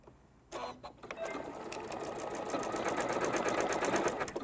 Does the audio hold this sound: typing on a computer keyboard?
no